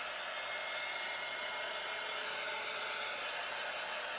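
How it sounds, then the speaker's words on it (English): A handheld hair dryer blows steadily on wet paint thinned with water, a loud, even rushing whoosh that holds without a break and has no voices over it. "a hairdryer will get it done"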